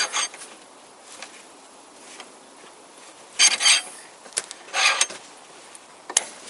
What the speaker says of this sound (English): Then I open that bolt. Okay, and I start to rotate this bolt.